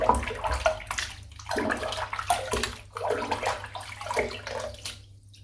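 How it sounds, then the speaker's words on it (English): Running water rinses out a tub of dark musk shaving soap, splashing and sloshing in uneven surges close by with no talking. "So I'm just going to rinse this whole tub out now"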